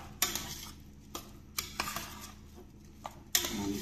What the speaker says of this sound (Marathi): आता आपण हे तांदूळ यात मिक्स करून घेऊया। तांदूळ परतून घेऊ।